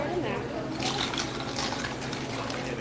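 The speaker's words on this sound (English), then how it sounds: "Just pour it in there." A cocktail of tomatillo jalapeno tequila is poured from a shaker into a glass, giving a continuous close liquid splash and gurgle for a few seconds.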